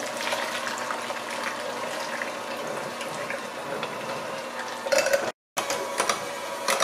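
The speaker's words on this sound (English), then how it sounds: "We are done with mixing our jello with whipped cream, and we have a beautiful mousse, pink mousse." Strawberry jello is beaten together with whipped cream into a pink mousse, making a continuous buzzing, slightly wet mechanical whir. It breaks off abruptly for a split second near the end before resuming.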